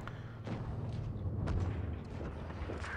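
Tiger P German tier 7 heavy tank in WOT Blitz firing its main gun, a single heavy boom around the middle over low engine rumble, with a few quieter thuds nearby.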